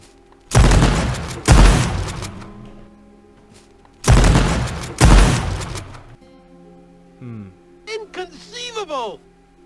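Shotgun blasts in a first-person shooter video game: two pairs of loud, booming shots with sharp onsets, followed by quieter game effects and chirping sounds, no talking.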